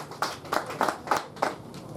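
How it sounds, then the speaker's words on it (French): Audience applause at an album press conference in a studio venue, heard as five or six short, evenly spaced bursts of clapping from a small group, moderately close, with no talk over it. "Merci d'applaudir pour ça également"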